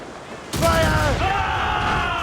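Ship cannons fire during a naval battle in Assassin's Creed Rogue, a sudden loud booming volley bursting in after a quiet moment and leaving a rolling, rumbling roar that carries on to the end.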